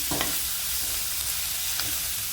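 Turmeric powder and salt frying in a pan, a steady low sizzle with a couple of faint stirring scrapes, close and alone.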